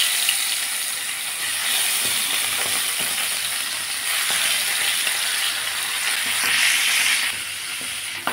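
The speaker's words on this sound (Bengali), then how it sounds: "এখন এক এক করে মাছগুলোকে ভেজে নেব।" Fish pieces fry one by one in hot oil in a home kitchen, a steady, loud, dense sizzle and crackle that holds without a break throughout, with no voices.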